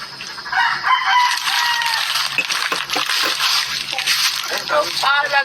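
A rooster crows over a noisy rural scene, its rising calls cutting through overlapping voices and background clatter.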